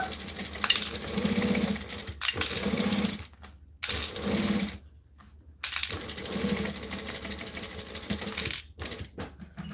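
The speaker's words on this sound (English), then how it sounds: "I could probably chain stitch these now that I've stuck them all together." A sewing machine chain stitching pieces together runs in rapid buzzing bursts of a few seconds each, separated by short pauses where it stops, loud and close with no talking.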